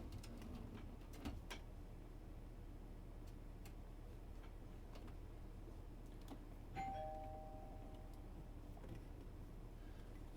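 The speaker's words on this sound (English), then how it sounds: "I just heard the doorbell." A two-tone doorbell chimes once, faint and distant, over a low steady room hum with scattered soft ticks and clicks.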